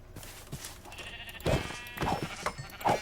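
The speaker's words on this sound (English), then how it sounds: "Any cows over here? Nope, just loads of sheep." Sheep in Minecraft give several short, close bleats, a couple of quick calls followed by louder ones spaced about a second apart, over a quiet game background with no speech.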